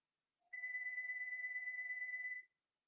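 A phone ringtone sounds as one steady electronic tone lasting about two seconds, clear and fairly close, with no talking over it.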